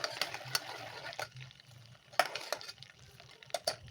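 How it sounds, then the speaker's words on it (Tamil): Butter simmers into ghee in a pan, a soft sizzle running underneath while a utensil scrapes and clinks against the metal in irregular stirring strokes, close and fairly quiet. "இப்போ அடுப்பை ரொம்ப அனலில் கம்மி பண்ணிவிட்டு கலந்து விட்டுட்டே இருக்கணும்"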